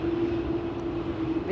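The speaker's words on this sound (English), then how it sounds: "Big tri-jet." Big three-engine jet airliner departing an airport, a steady distant engine roar with a sustained low drone holding evenly throughout.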